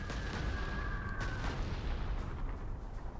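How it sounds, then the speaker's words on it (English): Air-dropped bombs explode in the Panzer Corps 2 war game, a dense rumbling barrage of blasts running continuously and loud throughout, with no talk. "We'll go ahead and bomb them now."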